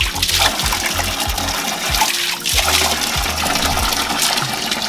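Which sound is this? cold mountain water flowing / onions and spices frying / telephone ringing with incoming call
cold mountain water flowing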